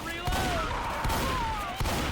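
Rapid gunfire in an online shooter game, several sharp shots in quick succession over a layer of game sound, fairly close and moderately loud.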